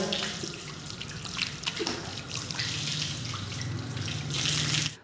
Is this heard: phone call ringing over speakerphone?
no